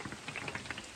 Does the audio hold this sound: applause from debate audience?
no